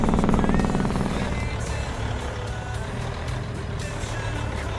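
A truck in Farming Simulator 25 reverses with a steady, repeating backup beep over a loud, continuous diesel engine rumble, close and uninterrupted with no talking.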